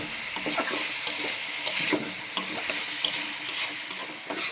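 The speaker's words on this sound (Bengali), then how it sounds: "এখন আমি কফি ভাজাটা দিয়ে কষিয়ে নেব।" Cauliflower fried in oil with turmeric, sugar and spices sizzles steadily in a pan, with regular scraping and clinking strokes of a spatula stirring the pieces, close and clear with no talking.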